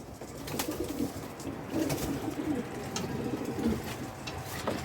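Many pigeons coo at a bird auction, their soft low repeated calls overlapping in a steady murmur, with scattered brief sharper chirps and rustles nearby and no clear speech.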